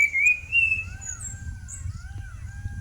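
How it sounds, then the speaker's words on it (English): An Asian paradise flycatcher calls in the wild: a few thin, whistled chirps and slurred notes, fairly clear over a low rumbling background, with no talk. "Always on the alert and flitting about, this bird is the Asian paradise flycatcher."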